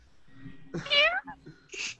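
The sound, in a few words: voice imitating a cat meow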